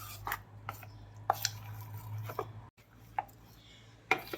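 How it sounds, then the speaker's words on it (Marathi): Rava uttapam batter with onion and salt being mixed in a bowl, with irregular spoon taps and light scraping clicks close by against a low steady hum. "आता हे सगळं मिक्स करायचं आहे"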